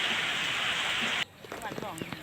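Heavy rain pours in a garden as a dense, loud hiss for about a second, then cuts off, leaving quieter scattered drips and a brief voice.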